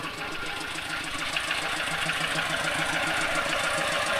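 A steady, rhythmic tractor engine thrum runs continuously with a knocking beat in a rural village, moderately loud and unchanging.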